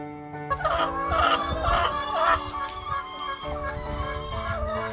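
Laying hens on a chicken farm cluck continuously and close by in an overlapping chorus over a steady low mechanical hum.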